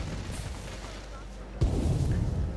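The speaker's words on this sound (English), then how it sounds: "Ooh, explosions." Explosions booming in a theme park management video game, a steady low rumble of blasts that ends in one louder, sharp burst near the end.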